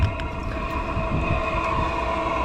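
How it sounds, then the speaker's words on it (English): A Webasto 90 diesel parking heater on a DAF LF 45 box van runs with a steady, droning mechanical hum and low rumbling undertone, continuous, close by and fairly loud, with no voices. "In here is where you can service the Webasto 90, to which you can hear running here."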